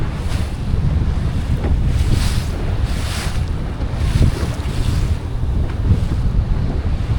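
Strong wind buffets and roars continuously over open sea off Southern California, with waves washing and surging in loud gusty swells.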